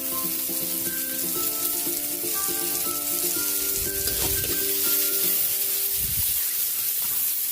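Carrots sautéing in a frying pan for chicken afritada, giving a steady, close, loud sizzle with scraping stirs and a faint tonal hum underneath, no talking.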